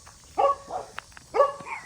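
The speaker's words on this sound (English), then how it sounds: "they're going to be barking for a bit" Dogs on a small farm with goats and chickens barking in two short bursts, separated by a brief pause, fairly close and moderately loud against quiet outdoor surroundings.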